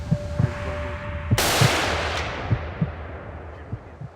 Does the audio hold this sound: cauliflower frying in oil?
no